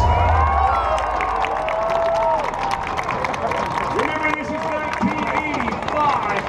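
A Calgary Stampede crowd at the Bell Adrenaline Ranch show claps and cheers loudly and continuously, with shouts and whistles rising over the dense applause while voices mix in.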